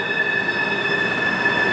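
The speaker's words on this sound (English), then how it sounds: "It's a long train." A long train rolls steadily past along a river, its wheels squealing in sustained high-pitched tones over a continuous rumble, loud and close throughout.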